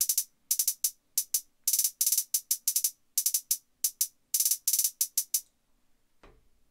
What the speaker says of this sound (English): stuttering hi-hats or like rattling hi-hats.